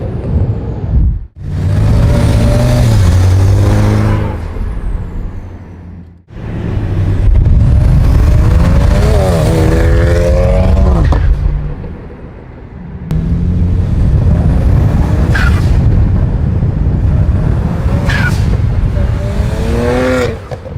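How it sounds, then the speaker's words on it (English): A cheap BMW 335i build revs its engine loudly in repeated bursts, with brief gaps between pulls and crackling exhaust pops as the revs drop, heard up close. "I got BMW pops."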